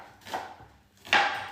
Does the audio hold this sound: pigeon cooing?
no